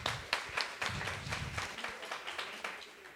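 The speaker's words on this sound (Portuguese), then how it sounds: "Vamos aplaudir, então, aí a aprovação." Students at a school youth council session clap after a vote is approved. The scattered, rapid applause is fairly faint and fades out over about three seconds.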